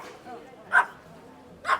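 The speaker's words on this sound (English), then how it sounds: "dog barking," Dog barking at a Thai seafood market beside the Mahachai railroad in Samut Sakhon, two sharp single barks about a second apart, moderately close, over a low murmur of market background.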